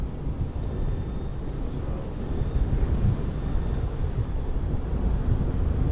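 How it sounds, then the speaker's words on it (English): Wind blows steadily across a boat on the Ohio River, a broad, continuous low rumble and rush that swells slightly in the second half, with no voices. "Wind keeps shifting, which is not very pleasant."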